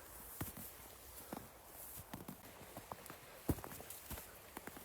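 Footsteps crunching along a snowy river path in December, steady irregular steps heard close over a soft outdoor background, with no talk.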